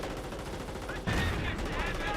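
A .30 cal machine gun fires in the Company of Heroes video game, a rapid, continuous rattle of shots heard up close that swells louder midway through.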